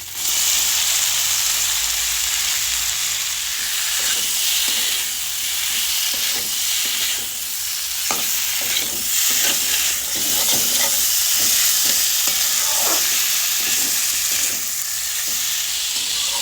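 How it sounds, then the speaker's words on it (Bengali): Fried radish pieces are stirred into sizzling spices for a radish and maskolai dal, with a constant loud frying hiss and repeated close scraping strokes of the spoon. "এবার আমি দিয়ে দেব ভেজে রাখা মুলো।"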